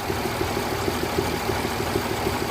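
A Mercedes S-Class W221 engine idles with its engine and glow plug warning lights on, a faint regular ticking pulse over a low continuous rumble without any talking.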